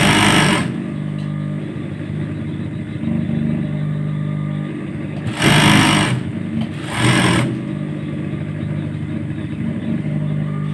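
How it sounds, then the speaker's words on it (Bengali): A sewing machine stitches baby shorts in loud, rapid mechanical runs that keep going through the clip, broken by a few short, sharper bursts of faster stitching. "এইভাবে সেলাই দিয়ে দেবেন।"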